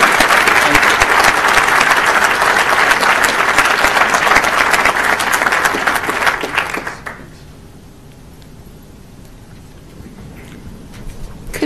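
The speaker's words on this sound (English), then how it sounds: "Let's give them one more round of applause, please." Applause for students at a school board of education meeting, a loud sustained round of clapping that fills the room for about seven seconds, then cuts off to near quiet.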